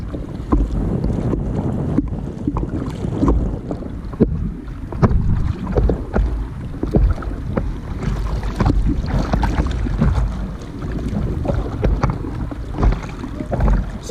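A surfboard is paddled through the water at Waikiki by a first-time surfer. Steady splashing and sloshing continue throughout, with wind buffeting the microphone and no talking.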